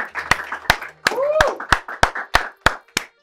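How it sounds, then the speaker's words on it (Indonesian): Scattered hand claps welcoming a guest onto an Indonesian podcast set, about nine sharp separate claps in a loose rhythm with a voice talking between them, close and moderately loud. "Kita kasih tepuk tangan dulu untuk McDani."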